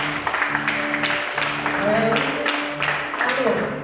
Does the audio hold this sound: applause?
yes